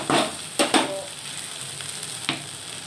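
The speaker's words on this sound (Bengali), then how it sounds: "দেখুন ভালো করে ভাজা হবে।" Morola fish curry frying and being stirred in a pan, a steady sizzle with a few sharp scraping stirs near the start and another near the end, close and fairly loud, no talk.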